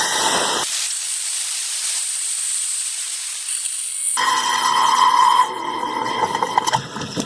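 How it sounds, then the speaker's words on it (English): Hot water from a newly installed water heater runs through household pipes and out a tap: a steady hiss, then a louder, rougher spraying rush with sputtering, close and without talk. "the instructions recommended running the hot water to make sure there's hot water"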